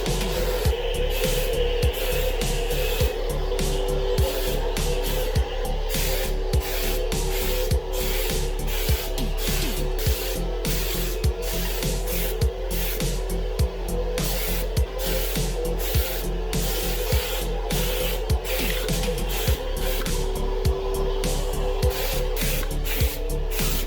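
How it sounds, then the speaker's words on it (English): Spray gun applying primer in a car engine bay: a continuous loud hiss with steady hum and regular rhythmic clicking pulses throughout, close and unbroken, with no talk. "we just finished up painting the primer"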